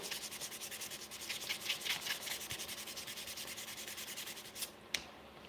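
Wooden handles being sanded by hand with 400 grit sandpaper: a steady run of rapid, rhythmic rubbing strokes, close and continuous, ending with a couple of sharp taps.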